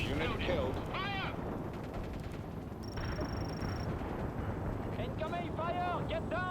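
Artillery and gunfire rumble densely in World in Conflict during a Soviet invasion of France, a continuous loud battle din with overlapping blasts while voices speak over it.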